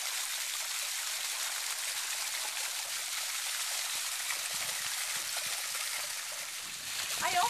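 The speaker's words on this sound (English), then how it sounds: "that's where the water comes up on the sculpture." Water flows and trickles steadily over a stone sculpture fountain in a backyard garden pond with water lilies and koi, a continuous soft splashing wash with a slightly louder burst near the end.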